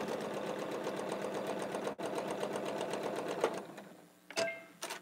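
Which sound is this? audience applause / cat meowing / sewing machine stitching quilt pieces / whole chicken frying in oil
sewing machine stitching quilt pieces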